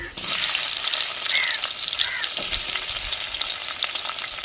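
Fenugreek seeds and chopped onion hit hot oil with a sudden loud, hissing sizzle that stays strong and dense throughout, with a few faint stirring clinks underneath.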